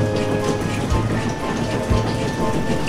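Heavy rain pours steadily, a dense close hiss of drops on surfaces, with a couple of low rumbling thumps underneath.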